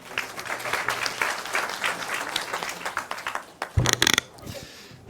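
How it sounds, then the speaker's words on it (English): Audience applause at an international conference on the Rohingya crisis, a sustained clatter of many hands that thins out toward the end, followed by a few louder, closer claps. "Please give him a round of applause."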